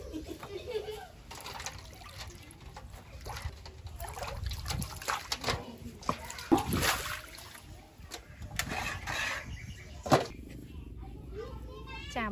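Lotus roots being rinsed and sloshed in water, with steady splashing and trickling throughout and voices talking in the background.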